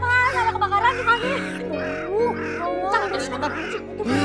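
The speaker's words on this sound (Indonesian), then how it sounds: "Itu burung gagak banyak banget." A flock of crows caws over and over in overlapping, ragged calls, loud and close, with a low steady hum beneath and the birds filling the whole stretch.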